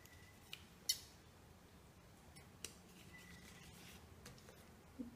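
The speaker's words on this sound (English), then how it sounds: "I'm going to cut that little piece off." Scissors snip a small piece off a strip of tape at an envelope craft project, one quiet close cut followed by faint handling taps and rustles in a hushed room.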